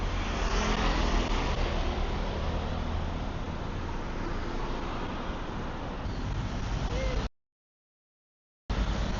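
Steady street traffic in Samkong, Phuket, Thailand, with motorcycles and cars forming a continuous broadband roar throughout, nearby and fairly loud, broken by a short dropout of silence near the end.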